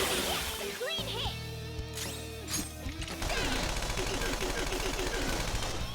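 Gunfire in Persona 5 Royal during a turn-based battle: a burst of machine-gun fire and crashing impacts with mechanical clatter, game voices and music underneath, rapid shots returning toward the end.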